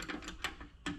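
Push-to-connect fitting being tightened on the back of a budget plasma cutter: three short, close ratcheting clicks spaced about half a second apart, with no talk.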